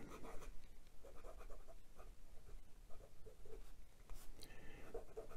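Pelikan M205 Olivine fountain pen with a medium steel nib writing on Clairefontaine 90 gsm paper, a faint, close scratchy glide in short irregular strokes, alone and quiet.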